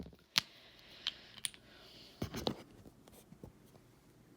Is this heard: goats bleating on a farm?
no